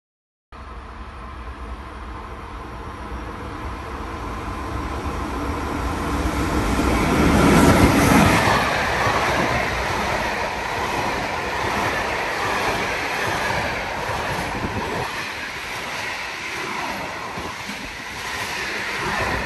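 A train passes through the station at Anzola Emilia on platform 1 without stopping. Its rushing roar swells to a loud peak, then continues as a long, rumbling rattle of wagons.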